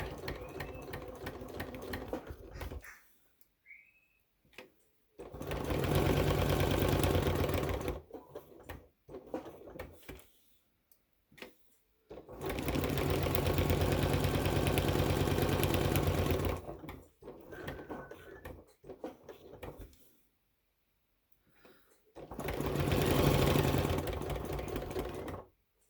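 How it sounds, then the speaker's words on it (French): A sewing machine stitches a fabric face mask in three loud, steady bursts of running whir, separated by quiet pauses and soft handling clicks. "Je vais prendre un repère et je couds."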